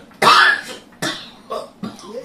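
A sudden cough demonstrated by a woman: a sharp, loud first burst followed by three shorter, weaker coughs spaced about half a second apart, close and alone with no talk.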